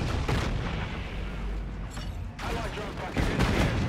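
Gunfire in the video game Call of Duty: Infinite Warfare comes as dense bursts of shots and booms over game noise, with a brief lull before the firing picks up again.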